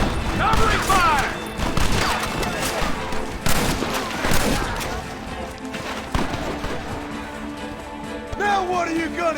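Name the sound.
gunfire in video game Red Dead Redemption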